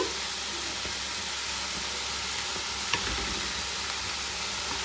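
Drumstick leaves sizzle and fry in a pan for chutney with tamarind, a steady close hiss running throughout with a faint stir or clink near the three-second mark.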